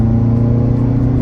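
A front-engined Ferrari California V8 with dual-clutch gearbox revs steadily up close, its deep engine note holding a smooth, continuous drone with no voices over it.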